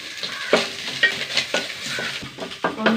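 Grated coconut roasts in a pan with six cashews, dried red chillies, two green chillies and curry leaves, a close crackling sizzle punctuated by rhythmic scraping stirs of a spoon against the pan, no voices.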